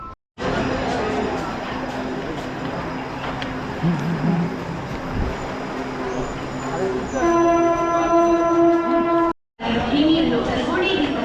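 A Diva–Ratnagiri train idles at a busy platform at Diva station, with steady rumbling, crowd chatter, and a long horn-like tone sounding near the end.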